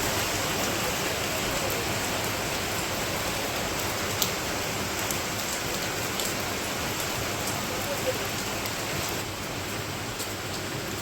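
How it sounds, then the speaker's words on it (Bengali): Steady rain falls under a clear sky, a broad, unbroken hiss of drops on surfaces that stays even and moderately loud, with a few faint drips and knocks and no talking. "পরিষ্কার আকাশের মধ্যে বৃষ্টি নামতেছে।"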